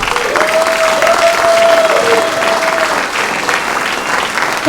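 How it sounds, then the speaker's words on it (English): Applause fills a celebration dinner for the Reject R-88 campaign, a dense, steady clapping from a large crowd lasting several seconds at close range, with a brief tonal whistle riding over it. "Please give them a big round of applause."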